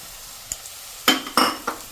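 Chopped green garlic frying with green paste and onions is stirred in a pan, giving a soft sizzle beneath three or four quick scraping strokes of a spoon.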